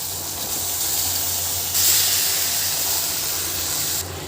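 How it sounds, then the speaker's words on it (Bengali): Greens tossed into a hot pan with shrimp give a loud, steady sizzling hiss that fills the whole moment, surging briefly partway through before settling. "এখন দিয়ে দেবো শাকটা"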